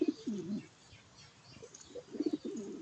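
Free-roaming healthy pigeons forage for food, giving soft, low cooing calls in two short bursts at the start and end, fairly close and quiet, with faint chirps between.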